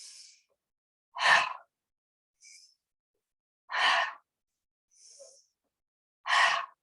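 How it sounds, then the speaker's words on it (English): Three forceful exhales during a yoga breathing exercise come at even intervals, each a sharp breathy rush through the mouth, with faint quieter inhales between them against near silence. "Pushing the exhale out. Forceful ha breath."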